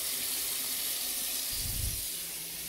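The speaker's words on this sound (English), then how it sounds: "I just rinse it out with clear water." A kitchen tap runs steadily as clear water rinses a refrigerator being cleaned, a constant close hiss of flowing water with a brief low splash partway through.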